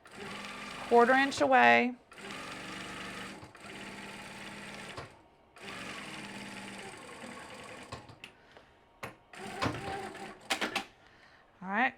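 A sewing machine stitches folded binding onto the edge of a project bag, running in several steady bursts of rapid mechanical clatter separated by pauses, with a person talking nearby between and over the runs.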